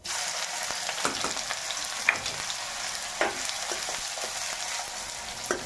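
Onion fries in hot oil for a Gujarati tempering with spluttered mustard seeds and cumin, part of making a tomato undhiyu. A steady, close sizzle runs throughout, with occasional crackles and stirring, and no voices.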